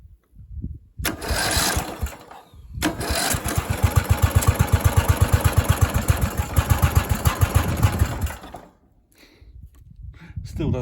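A starter motor on a small tractor cranks via its start solenoid, first in a short burst, then in a longer run of rapid, even chugging pulses before stopping.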